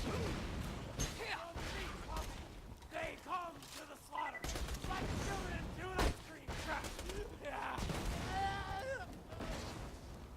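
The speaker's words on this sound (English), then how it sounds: "See me take out some, it's more like a grenade launcher than an assault rifle." An assault rifle in Borderlands 2 fires heavy, booming rounds that sound more like a grenade launcher, with blasts scattered across the scene, mixed with game effects and a voice talking over the action.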